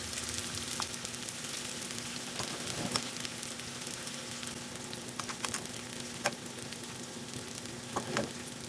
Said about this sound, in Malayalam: വെളിച്ചെണ്ണ ഇതാ നന്നായി ചൂടായിട്ടുണ്ട്. നമുക്ക് അതിലേക്ക് അരിഞ്ഞു വെച്ച ചെറിയ ഉള്ളി ഒന്ന് മൂത്ത് വരുമ്പോ